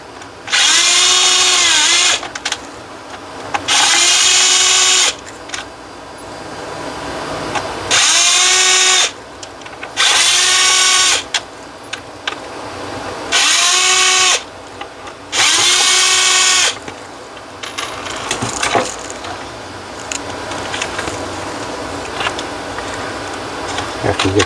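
A cordless power driver spins out T15 screws on a Ford F150, several separate whirring bursts of a few seconds each with pauses between, close and loud, with someone talking quietly in the gaps.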